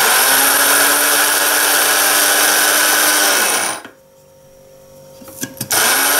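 A Kitfort KT-1329 electric coffee grinder grinds cocoa beans with a loud, steady, high-pitched whine that runs for several seconds, then cuts off, followed by a few close clicks and knocks before it starts again.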